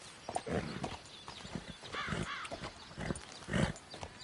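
Horse hooves clip-clop in the video game Red Dead Redemption, a quiet uneven trotting rhythm with a brief whinny, heard alone with no speech.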